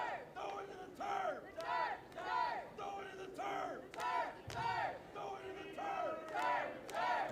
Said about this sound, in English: You hear some chants going here at KPP trying to cheer Ritter on.